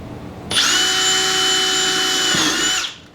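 Power drill with a step bit boring a hole through a plastic tote, a close, loud whining spin that starts abruptly, holds steady for over two seconds, then winds down.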